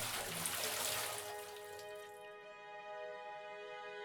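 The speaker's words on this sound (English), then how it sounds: "pour yourself a big cup of sewage river water" Water pours into a cup, a bright splashing rush that fades after about two seconds into a faint ringing trickle, heard alone and quietly.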